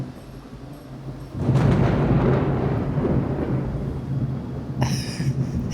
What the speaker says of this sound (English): Any minute, I'm sure we're going to have thunder again.